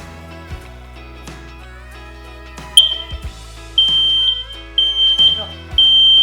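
A wired smoke and carbon monoxide combination alarm sounds its test cycle, loud piercing beeps in repeated bursts with short gaps, starting after a stretch of low room noise and quiet voice.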